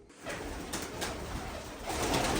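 Pigeons coo softly nearby, low murmuring calls repeating over a steady rustling background for a couple of seconds.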